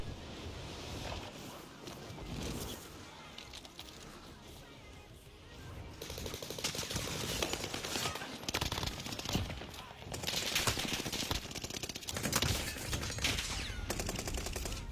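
Rapid automatic gunfire from a video game bursts in loud, dense volleys, with quieter gaps between them, over a steady windy background.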